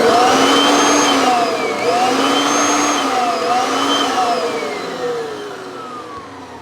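A Kirby vacuum cleaner with a newly replaced power switch runs loud and close, its motor whining and wavering in pitch before gradually winding down.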